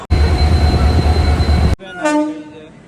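A train at a railway station rumbles loudly and steadily up close, then cuts off abruptly, followed by a clear tonal horn blast that fades away.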